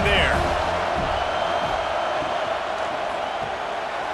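Crowd roar at a college football stadium, Georgia Southern versus USC, a steady distant wash of cheering that runs beneath a commentator's continuous talk.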